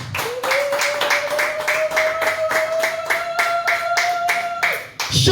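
A church congregation claps in steady rhythmic unison to acclaim Jesus Christ, a regular beat of hand claps lasting several seconds over a sustained held keyboard-like tone, stopping abruptly near the end.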